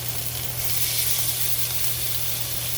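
Lamb chops sizzle steadily in a hot pan, a loud continuous crackling hiss with no talking.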